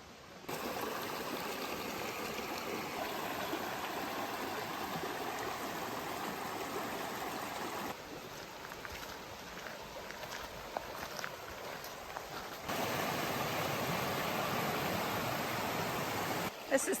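Creek water flows steadily along the Raven Cliffs Falls trail by a small log bridge, a continuous broad rushing wash that dips briefly mid-clip before swelling again.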